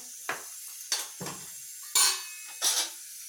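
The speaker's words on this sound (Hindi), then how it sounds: "यहाँ पे मैं टेस्ट के अकॉर्डिंग नमक डाल रही हूँ" A spoon taps and scrapes against a pan a few times while salt goes into methi matar malai; five short, distinct clinks with quiet gaps between them, close and alone.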